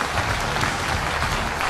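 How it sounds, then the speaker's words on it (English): A crowd gives a round of loud, continuous applause, dense clapping that fills the whole short moment without letup. "let's give a round of applause to Hasbro"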